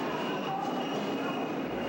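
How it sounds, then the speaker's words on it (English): A train at Friedrichstrasse station in East Berlin, a steady broad rumble of rolling railcars with a faint high wheel squeal, continuous and fairly close throughout. "the Friedrichstrasse train station in East Berlin"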